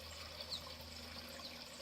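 Rainwater from the previous night's storm pours steadily into a fish pond, a continuous close rushing trickle with no voices.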